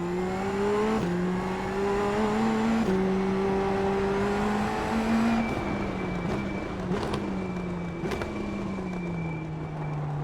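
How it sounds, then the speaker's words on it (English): A 450-horsepower two-litre turbo Indy NXT race car in the iRacing game spins its tyres and accelerates through first and second gear, the engine note climbing steadily and dropping briefly at each upshift. "450 horsepower, turbo, 2 litre. We'll spin the tyres, first and second."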